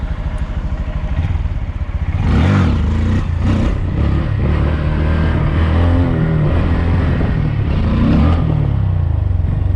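A Honda Grom motorcycle revs hard during a wheelie, its small engine climbing into a loud, strained roar with throttle surges and clatter, heard up close and alone.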